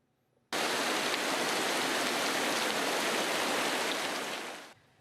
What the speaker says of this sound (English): water streaming into their units